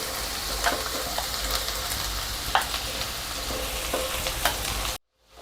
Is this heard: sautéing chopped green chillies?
yes